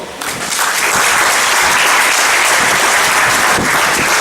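A school speech day audience breaks into applause, a dense, steady clapping that builds over the first half-second and then stays loud and even throughout.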